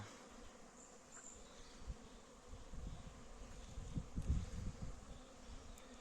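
Honey bees fly around their hives at a spring apiary during brief orientation flights, making a soft, steady buzz that swells and fades as individual bees pass close by.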